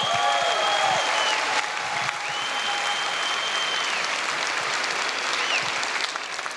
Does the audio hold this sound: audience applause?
yes